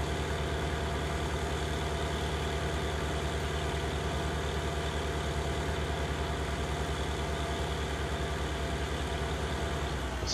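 Tractor engine of about 435 horsepower in Farming Simulator 19, a steady loud drone that holds evenly under load the whole time, with no voices.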